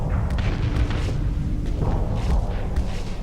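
Missiles fire and explode in a space combat battle in the game Starsector, a dense, continuous rumble of booms and thuds with no clear gaps, loud and close.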